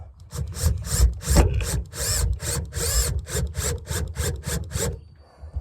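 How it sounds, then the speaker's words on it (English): A drill drives screws into wood in a van build, a quick series of rasping, scraping strokes up close, ending after about a dozen passes. "so I'm using this drill."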